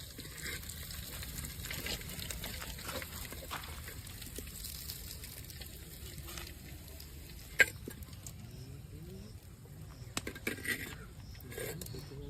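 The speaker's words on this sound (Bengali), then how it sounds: "আমাদের আলু প্রায় ভাজা হয়ে গেছে, এর বেশি ভাজবো না" Potatoes frying in oil in a pan for a village-style chicken curry, a steady soft sizzle and bubbling with occasional light clinks and stirring, fairly quiet throughout.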